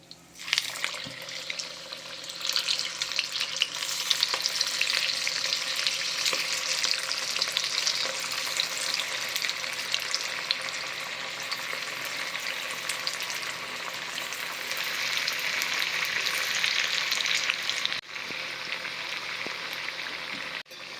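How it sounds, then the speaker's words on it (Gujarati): Mixed-flour vada of maize, urad and millet flour deep-frying in a kadai of hot oil, a close, loud, steady sizzle with fine crackling that drops slightly near the end. "હવે તેને કડાઈની અંદર તળીશું"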